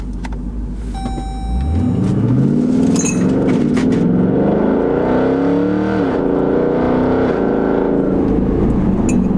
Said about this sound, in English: I don't know if I like that exhaust. It's just loud and obnoxious.